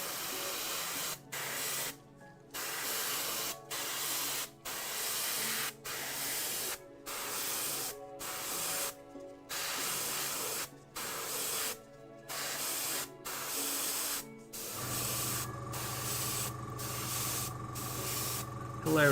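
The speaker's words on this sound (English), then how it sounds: "my airbrush is also like, I want to get this over and done with. It starts spraying really well." An airbrush at a miniature painting station sprays in repeated bursts of steady hiss, each lasting about a second with short gaps between, close and loud, before a longer continuous spray with a faint hum underneath at the end.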